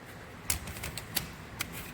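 Magnet strip on a retractable flyscreen clicking into place, a few sharp, quiet clicks spaced apart over faint background hiss, close by with no talk.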